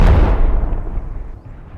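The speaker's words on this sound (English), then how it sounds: "when it's about to explode, we're gonna throw it and be like, fire!" A thrown item explodes in the VR game Animal Company, giving a loud, close, booming blast that rumbles and slowly fades over about two seconds.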